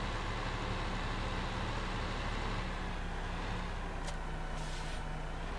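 A large truck driving in a giant-vehicles mod for a driving video game gives a steady low engine rumble and broad road noise, constant and moderately loud, with a brief higher hiss near the end.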